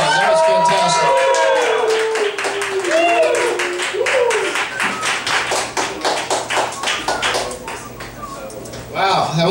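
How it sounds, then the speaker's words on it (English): Clapping from a small group, a quick round of taps and claps that starts right away and fades unevenly, with singing-like voices and talk sounding over it nearby. "round of applause."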